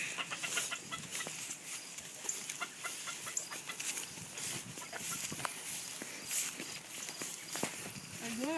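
A pet chicken clucks softly and its feet patter nearby, mixed with light movement and a faint voice in the background.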